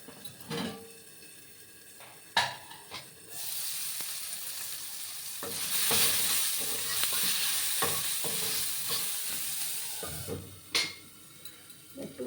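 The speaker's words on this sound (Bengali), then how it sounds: "একটু জল দিয়ে আমি এটা গুলিয়ে নেব ভালো করে।" Kashmiri chilli powder being stirred into water in a pan for a potato and green pea curry, with a spoon scraping and clinking against metal over a steady sizzling hiss, a few sharp knocks standing out.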